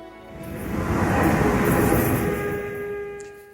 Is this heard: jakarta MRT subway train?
yes